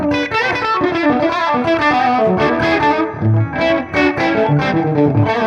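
An electric guitar plays through an MK Ultra tube amp with 6L6 tubes, giving a clean tone with a crunchy edge; busy strummed chords and single-note phrases ring out loud and close, with no talking.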